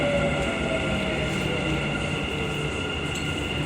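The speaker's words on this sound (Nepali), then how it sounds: "हाम्रो ट्रेन फाइनली आइपुगेको छ है" A train arriving at a station rumbles steadily with a constant mechanical drone and faint squeal of wheels, loud and continuous.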